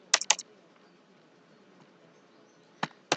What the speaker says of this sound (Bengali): নেক্সট 2 এর মধ্যে আমি লিখলাম যে মোহাম্মদ,